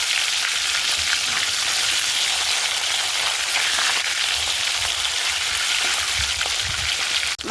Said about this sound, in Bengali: মাছগুলো একে একে খুব সুন্দর করে ভেজে নিচ্ছে